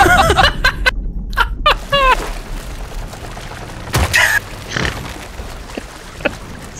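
Flintlock hip fire and a powder keg exploding aboard a ship's bowsprit in a pirate video game, heard as sharp shots and a booming blast among clattering game effects, with brief voices underneath.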